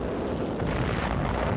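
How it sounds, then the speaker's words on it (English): Archival battlefield recording of artillery shells hitting Japanese positions near Shuri on Okinawa, a dense continuous rumble of distant blasts and heavy low roar, steady and loud with no talk over it. "Artillery shells score direct hits on Japanese positions."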